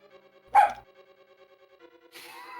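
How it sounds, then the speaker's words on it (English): A single dog bark rings out over a quiet, steady tonal game soundtrack from A Link to the Past, followed a moment later by another brighter sound effect. "Every time there's a bark"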